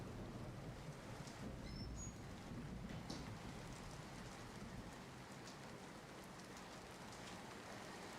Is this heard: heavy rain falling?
yes